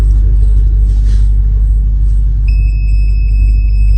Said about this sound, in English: now you can see it's giving an alarm